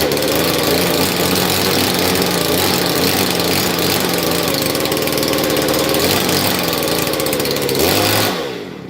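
A small engine in a workshop shed runs at a steady, loud, close idle with a buzzy mechanical drone, briefly revving slightly before cutting out and winding down at the end.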